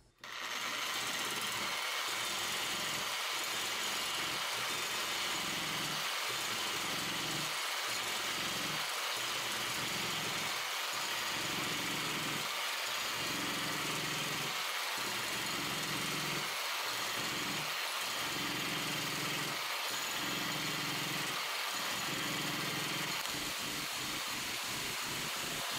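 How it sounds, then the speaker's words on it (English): Power scraper cutting a metal surface during hand-scraping work in a milling shop, a continuous buzzing mechanical vibration broken by regular short pauses about every second, close and steady, with no talk. "I've maybe taken like four passes with my power scraper here"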